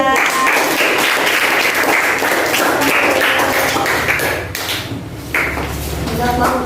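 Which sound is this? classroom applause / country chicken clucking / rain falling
classroom applause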